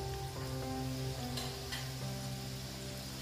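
Potato and flour snack frying gently in a pan over low heat, a steady close sizzle with soft bubbling crackle running throughout, no voices.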